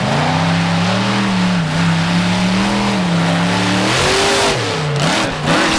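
Raminator monster truck launching for a wheelie at a monster truck event in Sturgis, its engine roaring loud and close with sustained revving that rises in pitch, dips and surges again.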